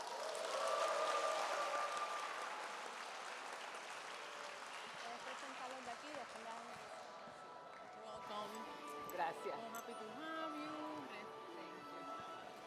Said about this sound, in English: please help me give her a round of applause and big welcome to Carole Joseph.